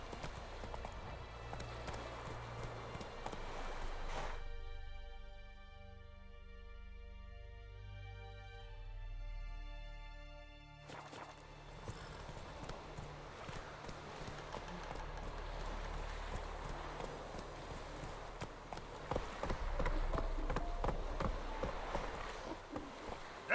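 Hooves of a horse clip-clop at a run in The Witcher 3, a steady rhythmic beat under game music, with a sustained harmonic tone in the middle stretch.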